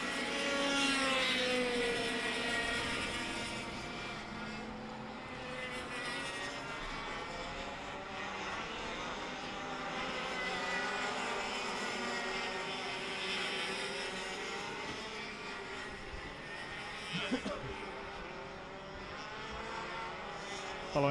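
Racing karts on the main straight of a circuit during a kart race drone past with high, buzzing two-stroke engine whine that rises and falls as they go by, loud and continuous with no talk.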